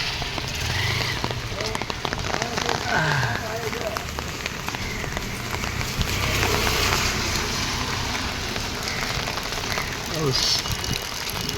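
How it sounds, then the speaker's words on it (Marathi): Heavy rain pours steadily, a dense continuous hiss with drops drumming on surfaces, and an engine idles faintly underneath. "पाऊस चालू आहे, कंटिन्यू चालू आहे."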